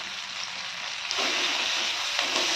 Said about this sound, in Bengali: ভেজে নেবো পেঁয়াজগুলো।